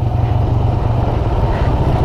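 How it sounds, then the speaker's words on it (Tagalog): A Suzuki Gixxer motorcycle riding at night near Bitbit River in Norzagaray, Bulacan, with a loud, steady, close engine drone and road rumble throughout. "Astig yung motor ni Tropaps, oh."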